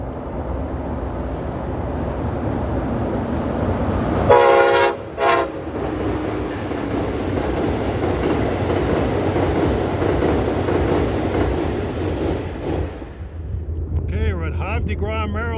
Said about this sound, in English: approaching at 3:17 is train 94 from Norfolk,